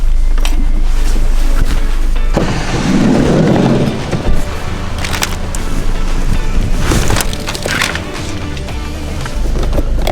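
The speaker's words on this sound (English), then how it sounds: "It is raining a lot harder now." Loud, dense rain roars steadily, with heavier gusts and rumbling patches surging through the downpour, close and continuous with no talking.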